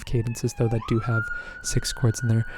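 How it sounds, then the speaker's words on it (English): A wailing siren sweeps steadily in the background, rising and holding a high tone, while someone talks over it up close. "Apologies for the sirens on the back."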